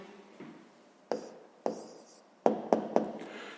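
Pen or pencil writes on paper by hand as a geometry answer is set down, several short separate scratchy strokes close up, with quiet pauses between them.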